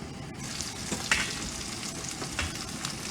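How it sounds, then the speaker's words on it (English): Chicken tenders sizzle steadily in a hot frying pan, a continuous crackling hiss with a few louder pops and spatters, close by and with no talking. "Oh, it's got a sizzle going."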